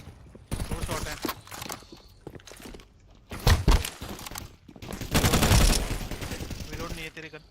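Counter-Strike 2 gunfire in a match: several sharp shots and short bursts, loud and close, with quieter gaps between, under players talking.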